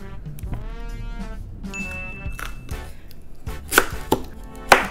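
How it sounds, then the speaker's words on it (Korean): A knife chops carrots rhythmically on a cutting board, sharp close taps in quick bursts with pauses and a few louder strikes. "당근은 좀 얇게 잘라야 돼."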